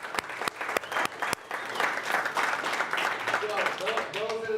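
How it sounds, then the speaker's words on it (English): Audience applause at a business presentation, starting with a few sharp isolated claps that swell into dense crowd clapping, with voices and cheering rising underneath toward the end. "Give him a round of applause."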